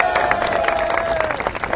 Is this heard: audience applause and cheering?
yes